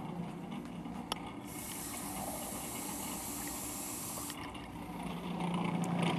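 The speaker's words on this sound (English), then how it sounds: "So let me get some more water." Water is added to yeast dough in a kitchen, a hissing stream running for about three seconds over a faint background hum, with one small click just before it starts.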